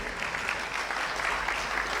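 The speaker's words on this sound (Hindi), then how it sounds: "और एक बार हम लोग चाहेंगे हम सब अपने लिए तालियां बजा लें बहुत ज़ोर से।" Steady, dense applause from a school audience at the curtain-raiser ceremony of a school Olympics, sustained and even for the whole stretch with no talking over it.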